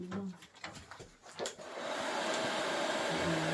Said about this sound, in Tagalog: Tapos i-blower natin.